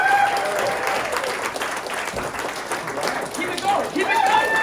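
Comedy club audience applauding and cheering as comedian Chris Wineland is introduced, loud sustained clapping with whoops and shouts mixed in.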